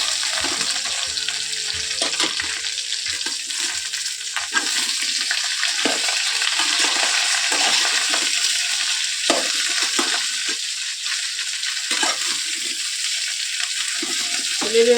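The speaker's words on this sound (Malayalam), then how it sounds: "ഇനി നമുക്കിത് നന്നായി ഇളക്കി കൊടുക്കാം." Jackfruit frying and being stirred in a pan, a steady sizzle with scraping stir strokes running throughout, close and fairly loud, no voices.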